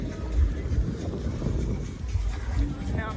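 A boat ride on a river in the Dang area: a steady low rumble of water and engine with wind buffeting the microphone, continuous and fairly close, with faint voices mixed in.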